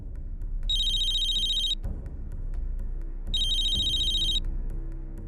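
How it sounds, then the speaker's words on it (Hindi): Mobile phone ringtone sounds twice in a bright electronic trill, each burst about a second long with a pause between, clear over a faint indoor room tone. "पूर्वी, पूर्वी तेरा फोन"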